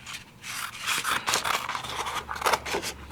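Scissors snip through a cardstock craft piece in a few close, dry cuts with soft scraping between them, alone with no talk.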